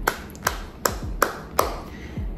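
A single person claps five times at a slow, even pace, each clap sharp and close in a quiet indoor room.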